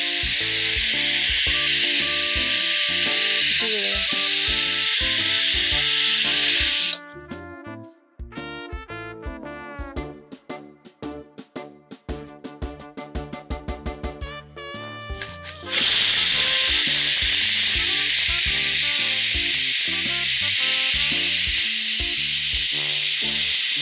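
Pressure cooker cooking chole for Punjabi chole masala, giving a loud, steady steaming hiss that fades to quieter bubbling and rattling mid-way, then bursts back into a strong, sustained whistle-like hiss.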